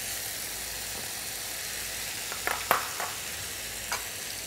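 Onions and carrots go into a pot with browned bones and fry in a constant dense sizzle, with a few brief clinks and bubbling bursts near the end.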